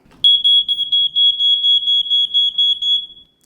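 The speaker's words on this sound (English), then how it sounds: "So we're going to have our smoke detector go off." A smoke alarm shrieks with a piercing high-pitched tone, pulsing in rapid, loud beeps for several seconds before cutting off.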